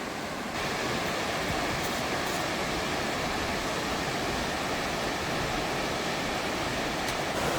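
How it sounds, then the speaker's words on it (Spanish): Cascada Dora, a waterfall between Chile and Argentina, heard as a steady, dense broadband roar that holds constant throughout, loud and unbroken with no voices over it. "desde acá esta cascada Dora se ve muy linda"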